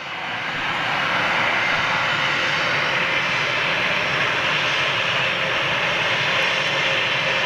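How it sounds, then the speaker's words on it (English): A Ryanair jet airliner departs with a loud, continuous engine roar. It rises over the first second and then holds a steady broadband rush, with no speech. "as soon as this Ryanair departs"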